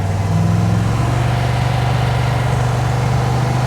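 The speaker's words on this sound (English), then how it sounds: "I got it idling at like 700 RPM." A 1972 Chevy Nova with a 6.0 LS V8 and a rowdy cam idles at about 700 RPM, a steady, close, loud low rumble with an even lope and no revving.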